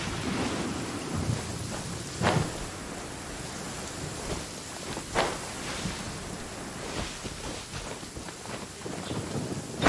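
Rain and thunder in the Genshin Impact video game: constant hissing rainfall with wind, broken by several loud rumbling thunderclaps at irregular intervals.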